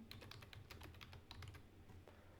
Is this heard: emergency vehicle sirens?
no